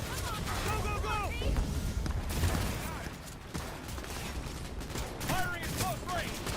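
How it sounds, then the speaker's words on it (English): Close-range gunfire in Cyberpunk 2077: dense, rapid bursts of shots and impacts over a busy, loud combat mix with chirpy electronic effects. "Firing at close range."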